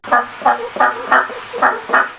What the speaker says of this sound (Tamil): கோழி கொக் கொக் என கொக்கரிக்கும்.